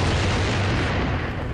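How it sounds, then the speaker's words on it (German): A bomb bursts about a metre in front of a door in a Star Wars audiobook sound effect, a loud, broadband blast that roars steadily for over a second and then begins to fade, with no voices. "Die Bombe zerplatzte etwa einen Meter vor der Tür, hinter der Nokas kauerte."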